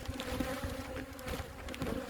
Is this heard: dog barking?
no